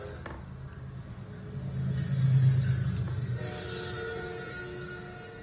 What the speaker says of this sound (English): Train full of cars.